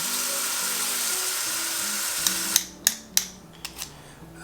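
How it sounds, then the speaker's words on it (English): Onions sauté in a pan with a bright, steady sizzle, followed by a few sharp knocks and clacks as they are stirred, and no talking. "Sauteing some onions."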